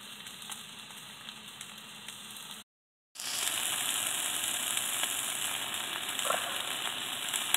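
Pork chops sizzle in a hot pan, a steady broadband crackle with a brief cut to silence partway through before the frying resumes, close and fairly loud, with no talking.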